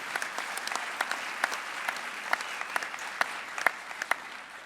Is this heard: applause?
yes